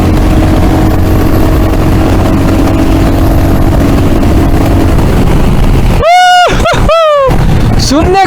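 Royal Enfield Hunter 350 motorcycle cruising in fourth gear: a steady engine drone mixed with rushing wind, then a few short sharp tonal bursts near the end, with a rider talking over it.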